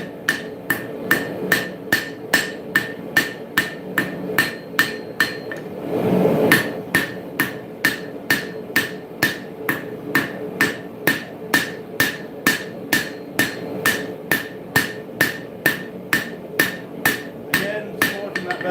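A hammer forging the bevel of a steel dagger blade, ringing metallic blows struck at a steady, brisk rhythm, dozens of sharp impacts close by with a brief duller thump partway through.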